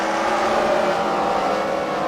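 Race cars roar around a track at a Freedom Factory fight-night team event, a steady, loud engine drone with no break.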